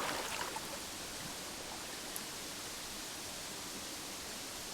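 Water in the video game URU makes a continuous, even rushing wash with no distinct separate splashes, steady and moderately loud for the whole stretch.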